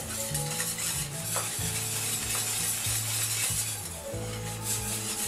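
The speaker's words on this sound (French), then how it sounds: "je vais y mettre ma bière. Et après, je vais commencer à mélanger." A thick batter with beer in it is stirred and beaten in a bowl, giving a continuous wet, scraping churn with light clinks against the bowl, while music plays underneath.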